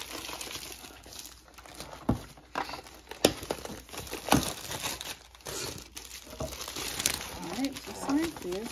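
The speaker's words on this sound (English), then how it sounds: "Go ahead and take the plastic off." Plastic wrapping crinkles and crumples as it is peeled off the base of a Cricut EasyPress 2 heat press, with sharp tearing bursts scattered through a steady rustle and a voice speaking over it.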